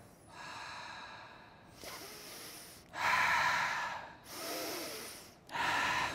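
A person demonstrates rapid breathing at about 45 breaths per minute, five close, loud breaths through the nose alternating with mouth exhalations, each a strong airy rush separated by short gaps.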